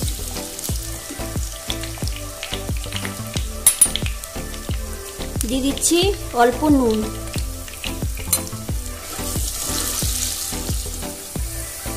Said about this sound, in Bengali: এবার আমি আলুটা ভেজে নিচ্ছি। মিডিয়াম ফ্লেমে রেখে আলুটাকে ভেজে নেব